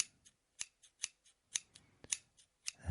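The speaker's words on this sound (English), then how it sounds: "Trim those nice fine buds up." Scissors snipping hemp buds during a harvest trim, a series of about a dozen crisp, sharp metallic clicks in an uneven rhythm, close and clear with no talk.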